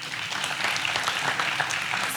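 Guests at a COMENSA gala dinner and award ceremony in South Africa applaud, a steady wash of many hands clapping at moderate loudness, continuous from start to end with no voices on top.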